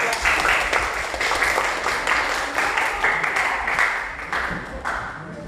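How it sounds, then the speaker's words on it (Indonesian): Classroom applause for a student group after its presentation, a steady patter of many hands clapping close by that lasts several seconds and fades slightly toward the end. "Kita beri applause dulu untuk kelompok 2"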